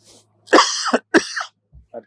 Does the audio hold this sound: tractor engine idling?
no